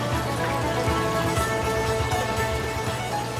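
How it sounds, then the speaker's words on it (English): Buttermilk-marinated, flour-dredged chicken thigh deep-frying in a fryer, a steady dense crackle and sizzle of hot oil that holds constant and close throughout, with no talking. "And then I'm going to drop it in the fryer."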